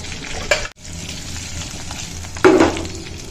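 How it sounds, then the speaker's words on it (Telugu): Urad dal, curry leaves and dried red chillies fry in hot oil as a tempering for coconut chutney, a steady sizzle with two sharper bursts of crackling as the pan is stirred. "పోపు వేగిందండి. ఇలా దూరంగా వేయించుకోవాలన్నమాట."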